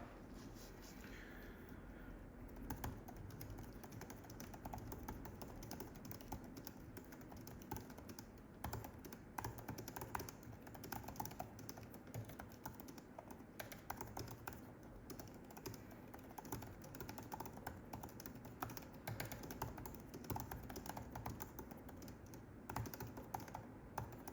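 Typing on the small-keyed keyboard accessory for an 11-inch Apple M4 iPad Pro, a steady run of soft, quick key clicks lasting throughout, with no talking.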